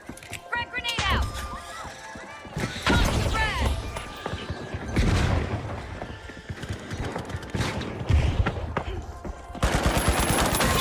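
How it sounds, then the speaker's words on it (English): A frag grenade blast and bursts of gunfire in the video game The Finals, punchy shots and a heavy boom recurring through a noisy battle mix, with a voice talking between and over the loud hits. "Frag grenade out."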